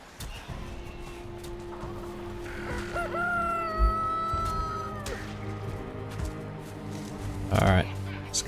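Chickens in the survival video game Valheim cluck and crow, with repeated squawking calls and a rooster-like crow over a busy game soundscape; a person talks over part of it.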